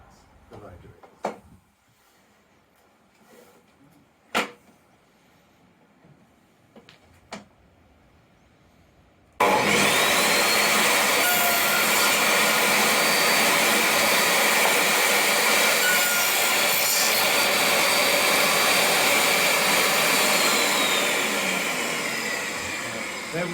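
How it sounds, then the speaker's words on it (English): A power tool cuts tenons in wood for a Venetian sash window: a few sharp knocks and taps, then a sudden loud, steady whine of the cutter running continuously and close for the rest of the clip. "we're going to cut the tenons"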